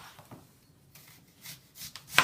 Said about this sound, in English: chopping some onions to be added later